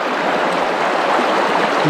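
River water rushing around a fly fisherman standing midstream, a close, continuous broadband wash of flowing current with no other sounds.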